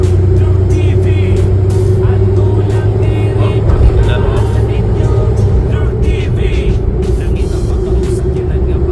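A turbocharged Suzuki Aster 4x2 kei car climbs uphill with its engine giving a loud, steady drone heard from inside the cabin, along with faint clicks and rattles.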